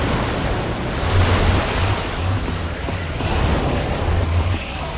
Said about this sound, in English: I don't know how much water this thing is going to kick out